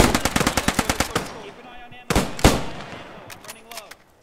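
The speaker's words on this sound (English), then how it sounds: "Give suppressing fire for the medic!" Machine gun suppressing fire in the Post Scriptum video game: a rapid burst of close, loud shots in the first second, then a few heavy single reports with fading echoes and scattered distant crackle.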